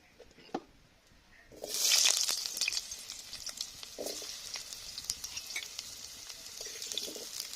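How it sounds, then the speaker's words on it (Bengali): Potatoes frying lightly in hot oil in a pan, a close, steady sizzle that swells up after a quiet opening and carries on with soft stirring scrapes. "তো আমি আলুটাকে একটু হালকা করে ভেজে নেব"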